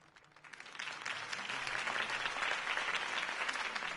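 A crowd in the Batman The Telltale Series video game breaks into applause. The clapping swells quickly and stays loud and dense, with no talk over it.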